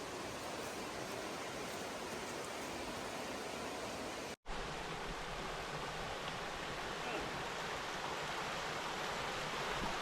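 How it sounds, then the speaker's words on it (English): Steady rushing water of a mountain creek crossing in the North Carolina backcountry, a constant broadband wash heard close and alone, with a brief dropout midway. "The first creek crossing."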